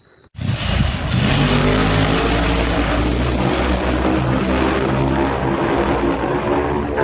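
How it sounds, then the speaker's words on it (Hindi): A Royal Enfield Scrambler 450 motorcycle exhaust booms inside an underpass, starting abruptly and holding a loud, throbbing engine roar with echoing harmonic layers that sustain and ease slightly toward the end, no talk. "अंडरपास में रॉयल एनफील्ड स्क्रैम्बलर 450 की एग्जॉस्ट का इको सुनकर राइड और इंजॉयबल हो जाती है।"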